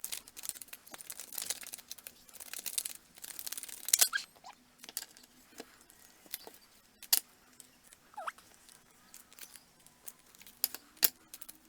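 A deck of tarot cards is shuffled close up, with soft riffling, rustling card noise and sharp snapping flicks scattered across the stretch, and no talk.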